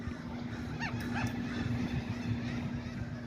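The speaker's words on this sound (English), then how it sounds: "Those seagulls always got something to say." Seagulls at a waterfront park during a Florida festival give two or three brief, raspy calls at moderate distance over steady outdoor background noise.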